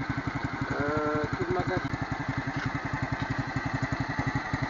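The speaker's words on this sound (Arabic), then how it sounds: "هذا هو الموتور" A motorcycle engine idles close by with a fast, even, throbbing pulse that holds steady throughout, while someone speaks briefly over it.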